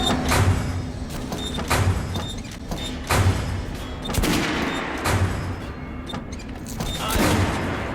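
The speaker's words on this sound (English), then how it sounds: "Choosing position! Load! Fire!" Repeated gunfire at a shooting range in the video game Metro Last Light, with sharp shots recurring roughly every second or so over a steady low background, fairly loud and without talk.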